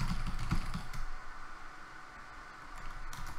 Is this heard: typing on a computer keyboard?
yes